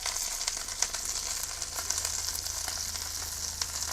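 Spicy prawns frying on an iron tawa, a steady close sizzle with crackling pops throughout, no talk.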